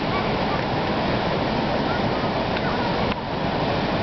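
Waves breaking at Batu Hiu beach in Pangandaran, a rocky shore where swimming is forbidden, give a loud, steady roar of surf that fills the whole stretch, with one brief dip partway through.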